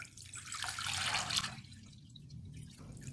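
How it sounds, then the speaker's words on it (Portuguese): Water is poured from a tap into a small glass bowl, a bright splashing rush that swells in the middle and then fades to a quieter trickle, close and moderately soft. "colocar a água."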